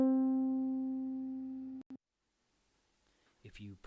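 A plucked ukulele note, sampled and played back in Ableton, rings with a steady harmonic tone for nearly two seconds before it is abruptly cut off, followed by near silence and then a brief fragment of a voice.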